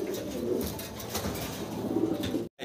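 Domestic pigeons kept for sale coo steadily and close by in a loft, a continuous layered murmur of overlapping calls, alone without talk and cut off by a brief gap near the end.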